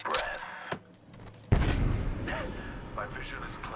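Gunfire in the Apex Legends battle royale: a quiet shot near the start, then a sharp loud boom opens a dense, sustained burst of firing that rolls on through the rest of the moment.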